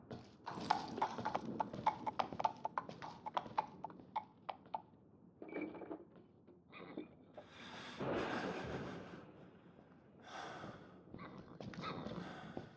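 Horse hooves clip-clop in an Edgar Allan Poe 'The Oval Portrait' gamebook video game, a quick run of close hoof strikes followed by snorts and heavy breathing, with no talk.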